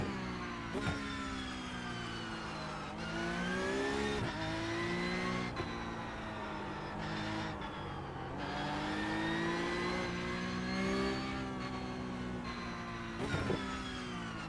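A race car engine roars and revs continuously in iRacing, pitch climbing and dropping through gear shifts, with brief tire squeals through a switchback section.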